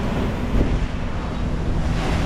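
Wind rushing over the sea aboard a sailboat moving at about 7 knots in 19 to 20 knots of wind, a steady close roar of gusts and wind buffeting on the microphone with water noise underneath, no talk.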